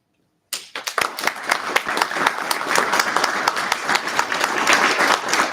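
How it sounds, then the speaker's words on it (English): After a brief silence, an audience at a student government election debate breaks into sustained applause, dense clapping that builds and stays loud to the end. "Please give one final round of applause for both of our candidates."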